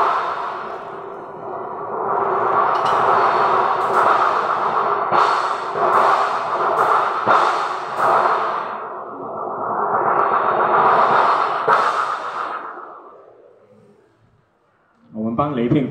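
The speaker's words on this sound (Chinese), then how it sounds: "那现在这个乐器叫做雷片" A custom-made steel thunder sheet is shaken and struck during a performance in a bookstore, producing a loud rumbling, rolling metallic roar that swells twice and then dies away, followed by a brief burst of sound.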